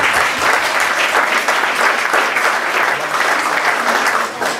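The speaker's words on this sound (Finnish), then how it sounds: "Aplodit sinne." An audience applauds loudly and steadily, many hands clapping together in a close, even roar for about five seconds with no talk over it.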